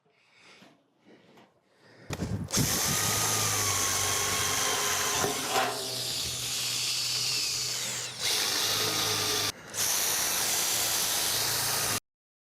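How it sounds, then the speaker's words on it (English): A power drill starts up loudly and runs continuously with a high whine and grinding, drilling holes for a pit-fire pottery kiln, briefly pausing twice before stopping abruptly. "I'm going to drill some holes that are just 5 centimeters or something above the bottom"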